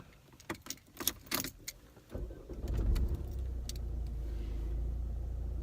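Keys jangle in several sharp metallic bursts, then a car engine starts and settles into a steady, close rumble as the vehicle prepares to set off for a drive, with no talk.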